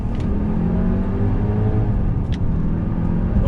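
A 2020 Range Rover Sport P400e Autobiography plug-in hybrid SUV pulls away on throttle, its engine a loud steady drone with a faint rising whine, heard close from inside the cabin.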